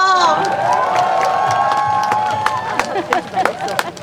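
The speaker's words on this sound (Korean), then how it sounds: "박수 쳐주세요." A loud outdoor crowd at a Korean azalea festival concert claps and cheers, shouts and whoops rising over the steady applause, with a voice briefly audible at the start.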